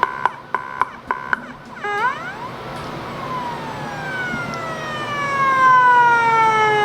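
A police siren mounted on a bicycle gives four short yelps, then sweeps into a long wailing tone that rises in pitch and grows louder toward the end, sounding alone without speech.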